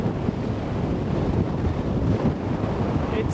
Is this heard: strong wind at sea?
yes